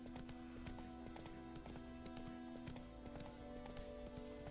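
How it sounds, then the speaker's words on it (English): Hoofbeats of Geralt's horse Roach in the video game Witcher 3: a quiet, steady clip-clop trot that runs throughout, alongside sustained tonal game music. "Geralt's horse is called Roach."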